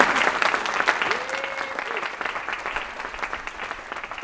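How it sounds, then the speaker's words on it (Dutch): Warm audience applause at a book presentation in a library fills the room with steady, dense clapping that gradually softens. A voice briefly sounds over it. "jullie hartelijke applaus alvast."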